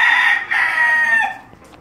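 A rooster crows once, loud and close, a long strained call that trails off into quiet.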